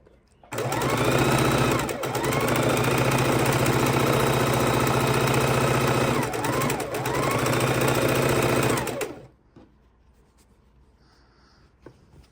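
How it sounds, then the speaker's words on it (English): A sewing machine chain-stitches precut quilt pieces in one loud, steady whirring run of about eight seconds with a brief dip midway, then stops, leaving near-silence. "we continue chain stitching till that pile is done"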